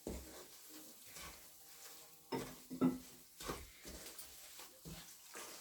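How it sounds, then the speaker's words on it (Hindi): Semolina cooks in hot desi ghee for halwa, giving a soft crackling sizzle with intermittent stirring scrapes and clinks of a pan, fairly quiet and with no talk. "अब हमारा जो घी है वो गर्म हो गया है और अब हमने उसमें अपनी सूजी डाल दी है"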